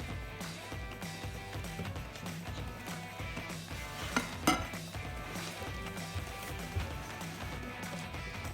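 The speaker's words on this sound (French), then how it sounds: "Après avoir tamisé la farine, nous allons bien mélanger énergiquement." Sifted flour is beaten energetically into chocolate fondant batter in a bowl, making a steady, close scraping and stirring rhythm with occasional light clinks of the utensil against the bowl.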